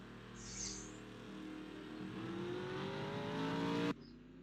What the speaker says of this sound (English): Some cars are making their way out onto the track.